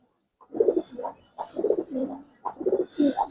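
Repeated soft, throaty coos from a silver Giribaz pigeon in several short bursts, close by and fairly clear, with brief pauses between phrases.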